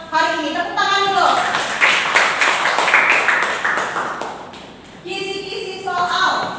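Seminar audience clapping in a burst of applause that swells and fades over several seconds, with a voice speaking before and after it.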